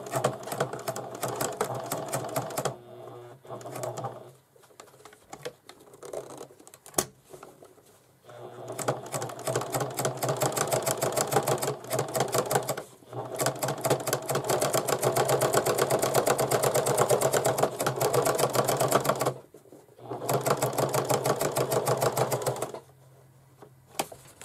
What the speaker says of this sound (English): I'm not going to top stitch through the canvas, only through the other fabric.